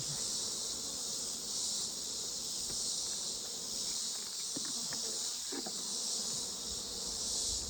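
Honeybees swarm around an opened hive box as it is reduced for winter, producing a steady, dense buzz that holds throughout, with a few light handling knocks underneath.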